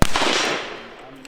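A single sharp, loud rifle shot from a CZ 600 bolt-action rifle, fired close by, with a sudden crack followed by a decaying echo over about a second.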